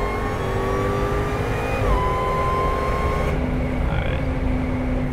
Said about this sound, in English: So that was a good 0 to 60 pull.